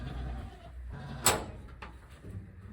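Goats being let into a pen at a rural farm in Qax, with one sharp bleat and a fainter second call rising over low rumbling background noise.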